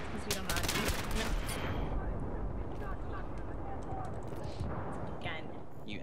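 Gunfire in the military shooter Battlefield 3: a dense rattle of rapid shots dominates the first two seconds, then thins to scattered distant pops and clanks beneath a steady rumble, with players talking over the action.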